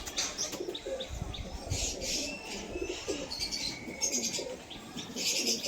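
Breeding pigeons, including a golden male in a loft, coo in soft repeated low calls over a steady background hiss, with occasional chirps and wing rustles nearby.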